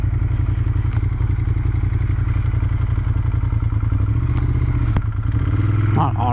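Ducati Monster 1200S on the road: a steady, loud low engine drone with wind rush runs throughout, a rider's voice talking over it and a short rise in engine pitch near the end.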